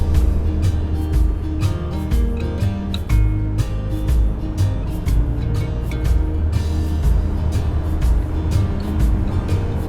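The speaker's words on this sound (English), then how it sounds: "We have about an hour drive, so getting on the highway now" A car cruising on a highway, with a steady loud low road and engine rumble and continuous tire noise throughout, heard from inside the vehicle with no talking.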